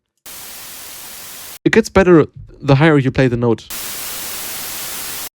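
Bursts of harsh hissing synthesized noise of random frequencies at the start and end, with a person talking briefly in between.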